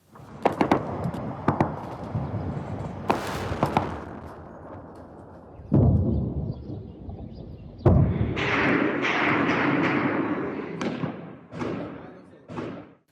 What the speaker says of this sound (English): Sounds of tank fire and loud shooting filled the air in Khartoum.